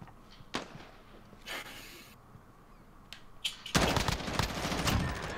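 M4 rifle fire in the shooter Modern Warfare: a few scattered single cracks early on, then a sustained loud burst of rapid automatic shots toward the end, with no talking over it.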